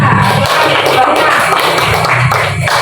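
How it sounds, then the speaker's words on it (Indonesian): Schoolchildren clap for their classmates in a classroom, a loose patter of hands mixed with voices and chatter, fairly loud and close. "tepuk tangan untuk teman-teman kita"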